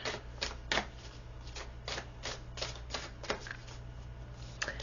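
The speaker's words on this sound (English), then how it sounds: "let's shuffle these cards up here a little bit" A deck of tarot cards being shuffled by hand, heard as a steady series of soft riffling bursts at a quiet, close level over a low background hum, with no talking.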